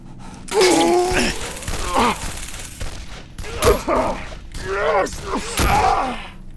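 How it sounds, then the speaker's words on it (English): Gunfire in Condemned: Criminal Origins inside a haunted warehouse full of mannequins comes as sharp, loud bursts spread through the stretch, mixed with gasps and strained voice sounds. "Somebody is shooting at me just what I needed."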